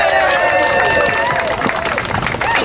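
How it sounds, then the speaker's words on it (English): A gathered audience at a public meeting in Ottawa gives a warm round of applause, steady loud clapping blended with crowd noise and overlapping voices throughout. "can we all give her a warm round of applause?"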